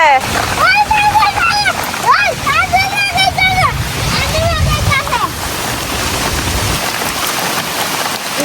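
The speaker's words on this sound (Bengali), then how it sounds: "পুরা বৃষ্টি" Heavy rain roars in a steady, dense hiss at a village house, with chirpy voices rising over it through the first half before the downpour continues alone.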